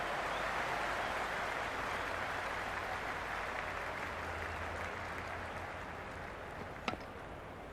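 Stadium crowd applause in the cricket video game Cricket 26, a Big Bash match, sounding as a steady, even wash of clapping from a large audience that fades slightly toward the end.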